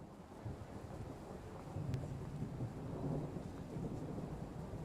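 A thunderstorm in Train Sim World 5 during a flood service: heavy rain hiss with a deep rolling thunder rumble that swells midway and stays loud throughout, with no voices.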